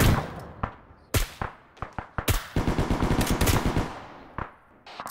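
Artillery gun crews fire a volley during a live-fire exercise: sharp, loud bangs, first spaced apart, then a dense rapid cluster of overlapping reports before a few final isolated shots, with no talking.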